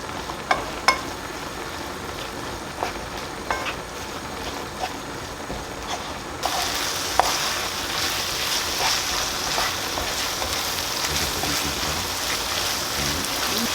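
Garlic frying in oil in a pan for Aleppo-style spinach, a steady close sizzle with a few stirring clicks, growing louder and brighter halfway through.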